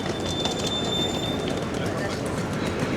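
A steady rumble of a Paris metro train at Saint-Paul station with faint high squeals from the wheels, busy station noise and voices mixed in throughout.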